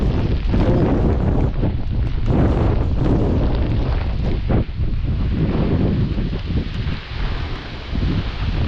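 Strong typhoon wind from Kristine sweeps over a low crop field, a continuous loud roar with buffeting gusts battering the microphone throughout, no voices.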